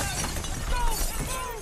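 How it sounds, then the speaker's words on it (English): Glass shatters in a dense, bright crash that spreads over a low rumble, with a scene of panic from the 2005 War of the Worlds film, brief and loud with no music. "Only the rumbling of the ground, shattering glass, and panicked screaming of the crowd."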